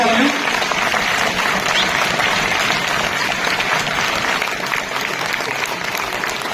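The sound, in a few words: loud audience applause at a ceremony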